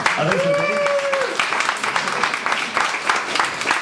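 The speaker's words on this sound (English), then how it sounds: "a round of applause for the most posts" Applause at a casual café gathering, many hands clapping in a continuous busy patter with a brief voice or whistle-like tone early on, then steady clapping to the end.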